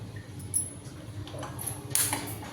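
A metal kadai-style frying pan set onto a stove makes a few light metallic clinks and a brighter clatter near the end, close up, with no speech.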